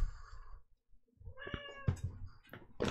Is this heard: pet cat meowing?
yes